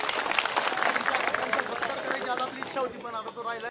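A crowd claps at a Marathi victory rally for a Ganesh Parivartan panel, broad applause that fades as a voice speaks over it toward the end.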